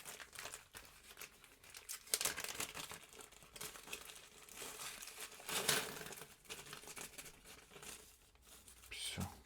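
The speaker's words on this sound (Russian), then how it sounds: "Тарим пакетик." A small plastic bag crinkles in irregular rustling bursts while being tared and filled with radio components salvaged from an S1-77 oscilloscope, with faint voices and handling noises around it.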